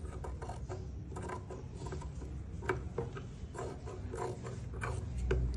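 A sewing machine stitches the neck of a balloon frock at a slow, unhurried pace, giving soft rhythmic mechanical clicks and ticks of its moving parts, faint and close, with no talking.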